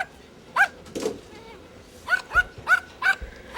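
A small dog barks in short, sharp yips, one single bark and then a quick run of four, close and fairly clear against a quiet background.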